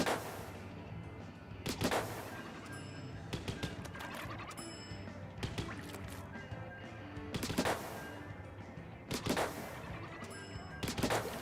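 Rapid gunfire from the Splatoon 3 video game, sharp loud bursts recurring every second or two over a busy game backdrop, with no talk.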